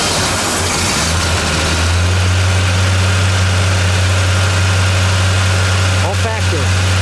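A factory 1970 Ford Torino 429 Cobra Jet Ram Air V8 with a four-speed settles into a loud, deep, steady idle, running a little high, with a brief voice near the end.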